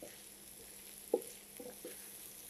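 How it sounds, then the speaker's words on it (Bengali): Onions frying in a pan with three slit green chillies for a Bengali fish fry, giving a faint, steady low sizzle broken by a few soft stirring scrapes. "পেঁয়াজটা ভাজা আমার হয়ে গেল"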